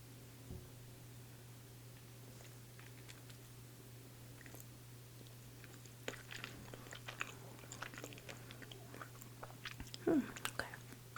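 Someone chewing a mouthful of creamy deli-style macaroni pasta salad, soft close wet bites and crunchy mastication sounds, quiet at first and growing busier in the second half, over a steady low hum with no talking.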